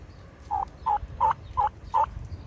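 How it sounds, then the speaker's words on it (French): Turkeys in a small outdoor pen give five short gobbling bursts at an even pace, close and clear over a low, steady rumble of background noise. "on a un petit enclos avec des dindons et des dames sûrement"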